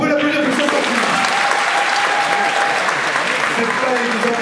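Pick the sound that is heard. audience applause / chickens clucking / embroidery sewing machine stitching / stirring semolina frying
audience applause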